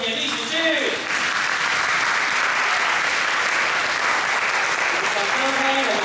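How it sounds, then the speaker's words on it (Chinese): Applause from the audience at a primary school's annual concert welcoming the principal to the stage, sustained crowd clapping throughout, with faint musical tones at the start and end. "掌声欢迎我们的张校长。"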